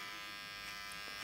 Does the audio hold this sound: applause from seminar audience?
no